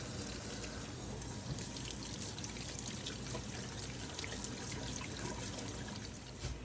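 Water runs and trickles steadily over big pink tomatoes being washed, a continuous close splashing wash with no voices.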